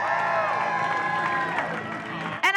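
An audience applauding and cheering for Fred Minnick at a bourbon community roundtable, a dense wash of clapping and whoops that fades slightly before a brief different sound at the end.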